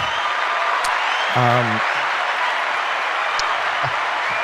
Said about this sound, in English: Round of applause to all of you.